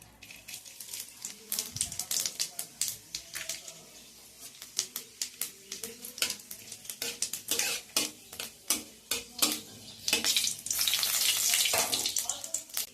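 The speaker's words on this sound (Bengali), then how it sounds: "এখানে দিয়ে দিচ্ছি আমি হাফ চা চামচ মতো পাঁচ ফোড়ন" Panch phoron seeds splutter in hot oil as a jute-leaf lentil dal is cooked. Rapid, irregular pops and clicks crackle close by over a frying hiss that swells louder near the end.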